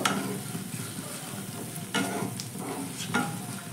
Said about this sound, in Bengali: খুব সুন্দর করেই ভাজা হবে এবং কষানো হবে